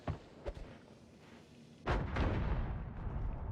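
A bomb in the game Noita goes off with a heavy, booming blast after a few small pops and thumps, the explosion rumbling on loudly and decaying over the last couple of seconds.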